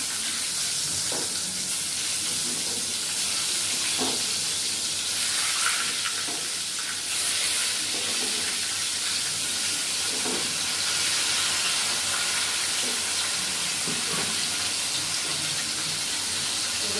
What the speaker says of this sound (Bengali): কটা বেগুন ভাজবো, বেগুনগুলো তুলে দিচ্ছি